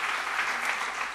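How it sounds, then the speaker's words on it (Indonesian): A church congregation claps during a worship talk, a short burst of dense, even applause. "Beri tepuk tangan bagi Tuhan"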